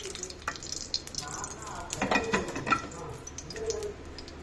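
Cabbage frying in oil in a pan, with soft sizzling and scattered stirring scrapes and clinks, fairly quiet and close.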